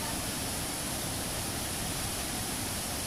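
Curug Cimarinjung waterfall in the Ciletuh geopark produces a steady, unbroken rush of falling water, even and moderately loud, with no voices over it.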